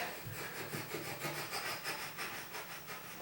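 Quiet, rhythmic gritty scraping and rubbing of a Phillips screwdriver twisting into drywall, close and faint with no voices.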